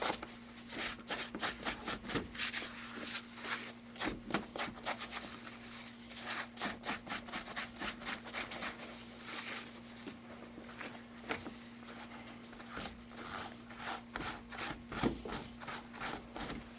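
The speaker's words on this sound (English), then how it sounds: "Now I'm just gonna scrub these ears down." Close, rhythmic scrubbing of animal ears being cleaned for taxidermy, a run of fast bristly rubbing strokes in uneven bursts over a faint steady hum, with no talk.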